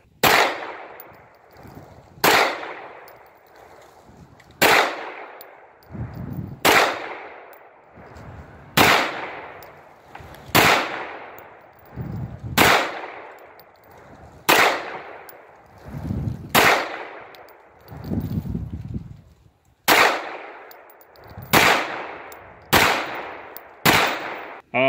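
Gunshots fired at an outdoor shooting range, roughly a dozen sharp, loud reports spaced a second or two apart, each with a short decaying echo, one shot at a time with no talk between.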